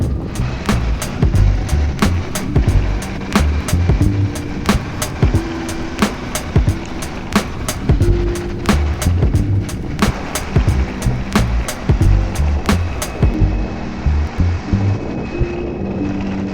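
An electric skateboard on Cloudwheel Rovers 110 R wheels rolls over rough ground, a loud steady grinding rumble broken by frequent sharp clacks and thumps from bumps, with wind buffeting the microphone.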